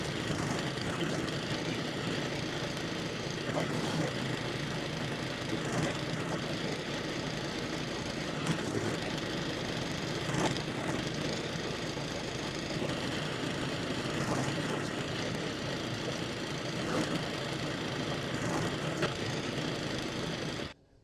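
Self-propelled lawn mower running on a lawn during verticutting and height-of-cut work, a steady droning engine that holds evenly throughout, fairly near and continuous, stopping abruptly at the end.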